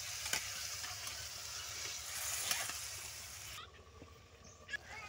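Spice masala with potatoes and kundru being stirred in a pan, a soft steady sizzle with occasional scraping clicks of the spoon, fairly quiet and close, briefly dropping away near the end.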